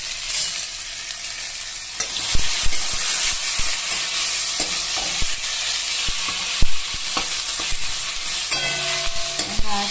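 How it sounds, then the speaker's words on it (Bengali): A tomato mixture sizzles and fries steadily in a pan while a utensil stirs it, scraping and knocking against the pan in intermittent clicks, close and continuous with no speech. "এবার ভালো করে এটাকে ভাজতে থাকবো।"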